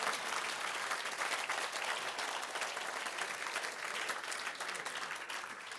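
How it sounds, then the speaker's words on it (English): Audience applause fills a hall in Berlin, a steady dense clatter of many hands clapping at full strength throughout, tapering only slightly near the end. "give them a round of applause"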